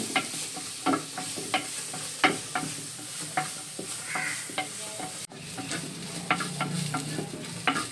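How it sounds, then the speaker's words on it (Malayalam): Small onions frying in a pan for a Kerala-style roasted-coconut mutton curry, giving a steady close sizzle broken by repeated sharp spoon scrapes and clacks as they are stirred, with no voices. "ഇനി നമുക്ക് ആ ചെറിയ ഉള്ളി ഇട്ട് കൊടുക്കാം. ഇവിടെ നല്ല ഒന്ന് കുഴഞ്ഞു വരട്ടെ ഉള്ളി."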